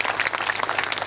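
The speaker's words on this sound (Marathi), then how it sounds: "त्याच्यासाठी एकदा जोरदार टाळ्या" Audience at a school centenary celebration applauding, a dense and steady burst of many hands clapping together for about a second.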